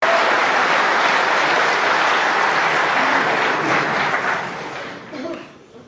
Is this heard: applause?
yes